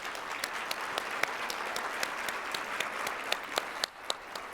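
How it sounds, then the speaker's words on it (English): Audience at a 2022 MLK business awards luncheon applauding honorees, a steady wash of clapping from a sizable crowd with sharper individual claps popping out, sustained throughout before tapering slightly at the end. "stand so we can give you a big warm round of applause"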